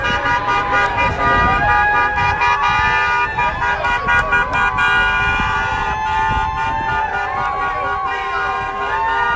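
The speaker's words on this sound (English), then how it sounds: "Those are not parked cars. Those are all cars going past the mansion here." Cars driving past a governor's mansion during a protest sound a dense, continuous chorus of horns, with steady honks and toots from many vehicles layered over traffic noise.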